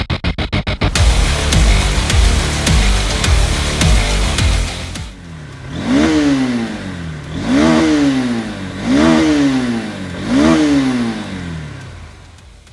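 A Honda CB200X motorcycle on a ride, starting with a rapid rhythmic engine clatter, then a loud engine revving up and easing off in four repeated rising-and-falling surges.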